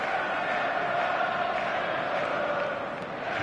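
Dense, steady roar of a large stadium crowd in an eFootball video game on a clear evening before a showcase match, a continuous loud wash of massed voices with no breaks.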